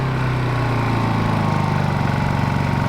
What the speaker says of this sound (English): now that the generator is running